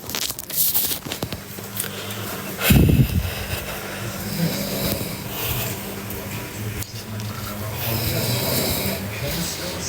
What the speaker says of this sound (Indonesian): Siapa yang ngorok? Suami aku ngorok.